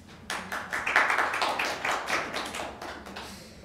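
Scattered applause from a small audience at a city council meeting, a few seconds of brisk, fairly close hand claps that fade out gradually.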